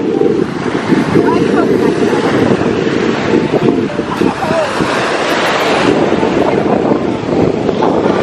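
Strong wind gusting across the microphone at a beach resort in Bohol, Philippines, a loud, constant rushing roar with waves washing underneath and someone speaking through it.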